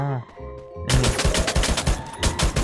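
XM8 rifle fire in the Free Fire video game, a rapid burst of loud shots after a brief quieter game sound, continuing in dense repeated cracks.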